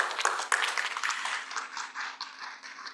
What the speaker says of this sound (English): May I kindly please to give a round of applause to all of us.